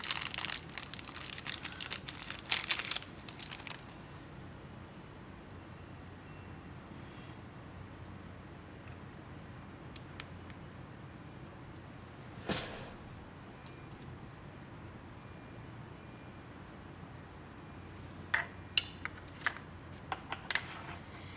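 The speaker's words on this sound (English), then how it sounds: "Let's unwrap a second sharp sensor." Crinkling and rustling of packaging as a Sharp sensor is unwrapped, faint and close, with scattered louder crackles and handling noises separated by quiet stretches.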